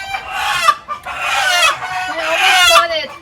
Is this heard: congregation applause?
no